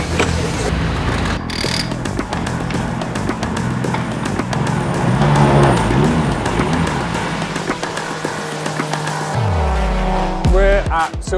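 Praga race cars run on the Silverstone Grand Prix Circuit at the first Praga Cup race, with loud nearby engine roar, revving and passing cars, and a falling engine note near the end; a voice speaks over the noise.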